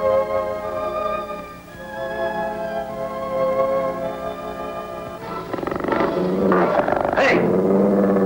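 A dog growling and attacking, snarls and harsh rough bursts rising over a sustained tonal music bed, ending in louder chaotic noise.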